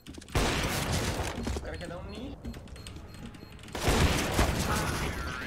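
Bursts of rapid gunfire in a tactical shooter video game, one dense volley at the start and another near the end, loud and close, with a quieter gap between and a player talking over it.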